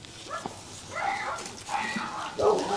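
Puppy of the Vietnamese Bắc Hà bobtail breed, golden-coated, giving a few short whimpers and yips at close range, with people talking nearby.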